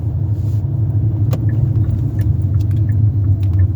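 A car accelerates away from a traffic light, heard as a loud, steady low engine rumble close by, with a few faint light clicks on top and no talk.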